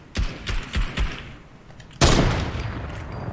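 Sniper rifle shots ring out in a squad-based shooter game: four quick, sharp cracks in a row, a pause, then one louder, heavier blast that trails off into a lingering echo.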